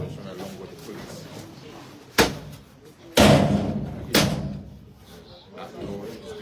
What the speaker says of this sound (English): That door is being broken into.